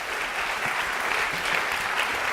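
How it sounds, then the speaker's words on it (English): Audience applause after a talk, a short stretch of continuous dense clapping from a crowd, heard alone at steady loudness. "round of applause."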